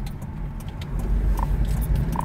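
Steady low engine rumble of a car heard from inside while driving, a constant close drone with light rattles and small jingling clicks on top.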